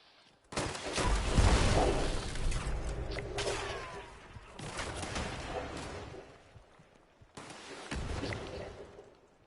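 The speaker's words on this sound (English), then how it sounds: "So I just do a double tap with this launcher." A launcher weapon fires in a video game, producing heavy booming blasts with rumbling tails, one big explosive burst followed by further loud bursts, close and without talk.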